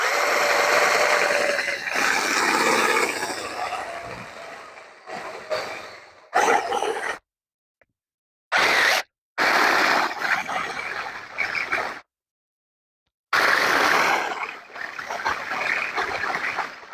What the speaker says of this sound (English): Now I use a 3/8 inch bit.